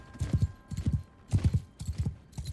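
Horse hooves clip-clop in Mount & Blade II: Bannerlord, a medieval video game, in four quick rhythmic bursts of close, moderately loud hoofbeats, each a cluster of three or four thuds.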